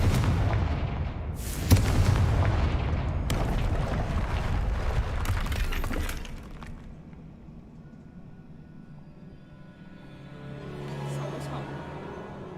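The Confringo fire spell in the Hogwarts Legacy video game goes off as a deep explosive blast, then a second sharp burst and rumbling debris that fades. Cast incantations are spoken in the game audio.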